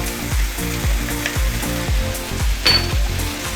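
Beef stir-fried with satay sauce over high heat, with a loud, steady sizzle and a regular rhythm of spatula scrapes and tosses against the pan. One brief sharper metallic clink near the end.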